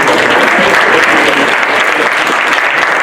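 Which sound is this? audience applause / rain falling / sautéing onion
audience applause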